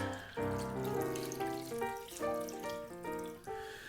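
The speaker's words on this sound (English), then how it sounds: "we're just going to add a little bit of water to it." Water pours steadily into a pan, a continuous ringing gush whose tone shifts in pitch as the level rises, with no voices.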